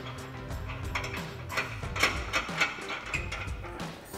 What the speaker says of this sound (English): we'll take our 18 millimeter socket to tighten that down